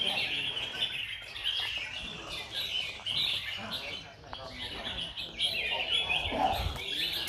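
Red-whiskered bulbuls sing at a bird song contest, bright chirping phrases and warbles repeating close by over a murmuring crowd of voices and someone talking.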